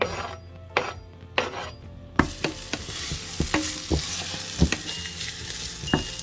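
Onions frying in generous oil in a pan, heading toward caramelized, a bright sizzle surging in after a few quieter utensil taps, then continuing with irregular spatula knocks and scrapes against the pan, close up.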